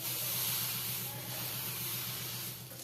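Banana pancake batter sizzles in a hot pan with a steady, loud, hissing fry that stays close and continuous for about three seconds.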